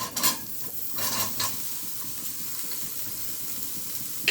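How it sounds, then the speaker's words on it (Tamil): Onions fry in hot oil left over from cooking green chilli chicken, a steady close sizzle broken by several scraping stirs of a utensil in the pan, with no voices. "இப்போ இதே எண்ணெயில் இந்த வெங்காயத்தை வறுத்துக்கிறேன்"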